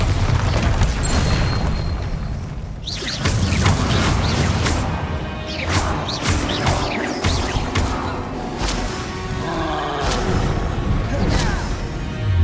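Bombarda explosion spells from Hogwarts Legacy go off in a busy fight, with heavy booming blasts and crashing impacts over a dense, continuous din of game battle effects.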